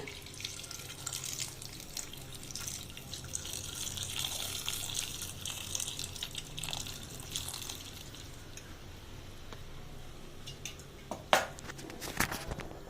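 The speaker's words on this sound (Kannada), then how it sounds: "ಒಂದು ಎರಡರಿಂದ ಮೂರು ಲೋಟ ನಾನು ನೀರು ಹಾಕ್ತಾ ಇದ್ದೀನಿ" Water pours steadily into a pot of vegetables for drumstick soup with a continuous splashing gush, followed by a couple of sharp clinks near the end.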